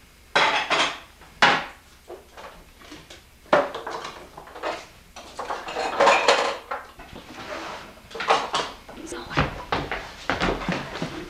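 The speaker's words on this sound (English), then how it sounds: "somebody has to do the family dishes and put them away." Household dishes are washed and put away, with repeated clattering of plates, pots and cutlery and cupboard doors thudding shut in an irregular sequence, while people talk in between.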